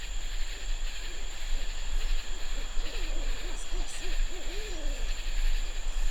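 Repeated owl-like hoots ring out at night in a swamp, a series of rising-falling calls at moderate distance over a steady hiss and low hum.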